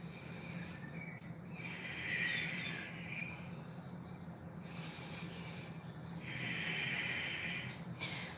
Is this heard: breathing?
yes